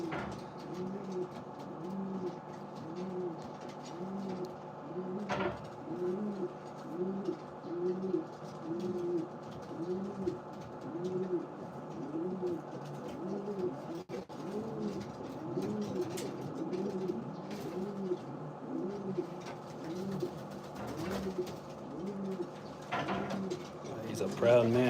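Pigeons in a breeding loft coo in a steady, repeating rhythm of rolling calls, close and continuous, with faint voices in the background.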